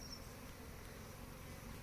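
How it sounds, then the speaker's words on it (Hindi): Honey bees fan nectar with their wings inside a hive, making a faint, continuous buzzing hum that holds steady throughout. "मक्खियाँ फूलों का रस ले आके डाल देती हैं और उसके बाद उसको पंखों से जो है झलती हैं"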